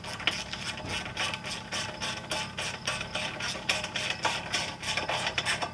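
A ratchet tightens a 10mm bolt during the install of a Cornerstone Performance cold air intake on a RAM TRX, giving a steady, fast run of loud, close clicks with no pauses.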